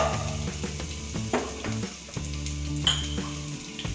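Green chillies, chopped ginger, curry leaves and cashew nuts fry in hot oil for lemon rice, a close, steady sizzle broken by a few stirring scrapes and light pan clinks.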